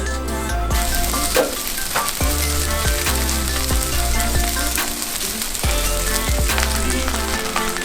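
Three cups of rice frying and being stirred in a pan of beef tallow drippings for Spam fried rice, a steady dense sizzle with repeated scraping stirs and clinks running throughout, close and loud with no talking.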